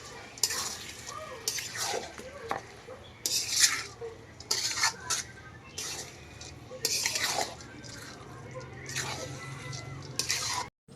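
Rice, lentils and boiled beef stirred and fried together in a pot, with repeated scraping and clinking of a spoon against metal coming in bursts, faint sizzling underneath and occasional soft speech.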